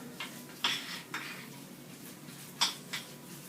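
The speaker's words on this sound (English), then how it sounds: "So just a little bit in there to sweeten it up. Stir that around." A spoon clinks against a breakfast bowl a few times as agave nectar is stirred in, light scattered taps, close and quiet.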